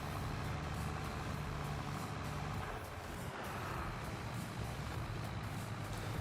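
A tractor engine runs steadily and close by, a continuous low droning rumble that holds at an even level, with no talking.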